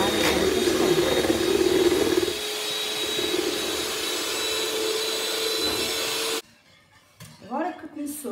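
An electric mixer beats egg whites with chestnut for a fluffy Maria biscuit pudding, whirring steadily and loudly for about six seconds before cutting off, followed by faint clatter in the kitchen.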